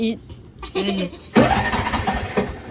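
A Bajaj engine is started with the starter, a sudden loud mechanical burst that turns into a rough, sputtering run, preceded by people talking close by.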